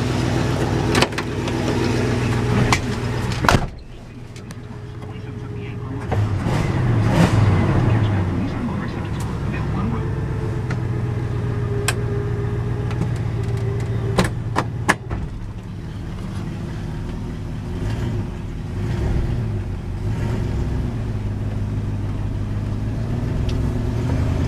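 A car engine pulling at quarter throttle, a steady droning hum rising and holding over about twenty seconds, close and inside the cabin, with people talking over it.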